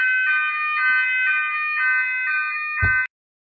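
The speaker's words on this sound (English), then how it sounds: "Oh, I'm going to have a little bit of a fire alarm here." A fire alarm sounds indoors, a loud piercing electronic tone pulsing in a steady rhythm for about three seconds before cutting off abruptly after a brief thump.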